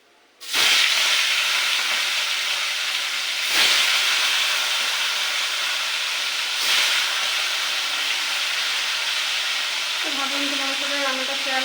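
Rupchanda fish fries in a pan at home, giving a loud, steady hiss of sizzling oil that holds close and constant throughout, with a faint tonal sound near the end.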